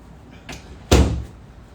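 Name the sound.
door being shut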